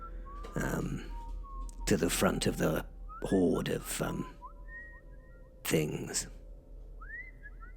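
A small flying figure in an audio drama whistles in short, rising and gliding notes that fill the pauses between a narrator's spoken lines, faint and light against the voice.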